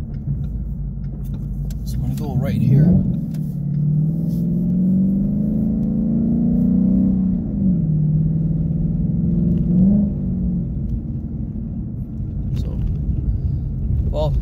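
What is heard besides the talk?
muscle car engine accelerating on icy road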